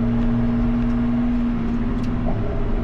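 A Lotus Exige V6 350 engine in sport mode hums steadily with a sustained droning tone, heard close from inside the car, rising slightly in pitch toward the end.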